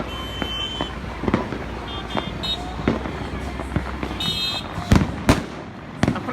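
Diwali firecrackers and fireworks go off around Mumbai at night near the water, sharp bangs and pops scattered at varying distances, some loud and close, others distant, over a noisy city background with faint traffic.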